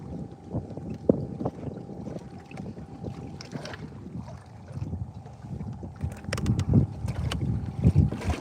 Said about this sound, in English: Captain, the wind is getting worse.